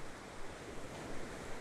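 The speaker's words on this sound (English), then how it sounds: "Your speckled body has mingled with the sound of the sea." Sea waves and surf wash in a steady, hissing rush, with gentle surges, soft and distant, and no voices.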